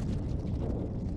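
An exploding flask going off in the video game Massive Chalice, a dense, heavy, rumbling blast that sustains evenly through the whole moment, loud and close, with no talk over it.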